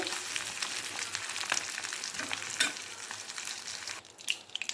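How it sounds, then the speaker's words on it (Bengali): A batch of fish frying in oil in a pan gives a continuous crackling sizzle with scattered pops and spits, moderately loud and close, easing slightly near the end, with no one speaking. "এই যে কিছুটা মাছ আমি ভেজে নিয়েছি, এখন বাকিটা ভাজছি"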